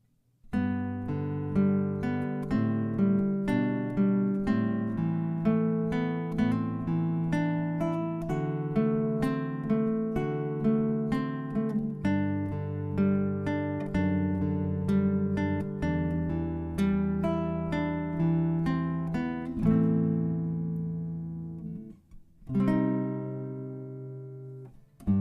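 A guitar plays measure 22 of a song: steady fingerpicked notes and chords in an even rhythm for about twenty seconds, with a short pause and a final strum near the end.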